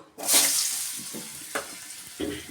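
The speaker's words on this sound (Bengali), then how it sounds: "আমি এবার একটু এই তেলে ভেজে নেব" Cut potato and pumpkin pieces hitting hot oil in a pan for a Bengali curry, a loud sudden sizzle that keeps hissing steadily, with a few stirring scrapes, close up and with no talking.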